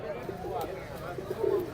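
Pigeons coo softly at a Sunday pigeon market in Saddar, Karachi, low murmuring calls repeating through a faint background bustle.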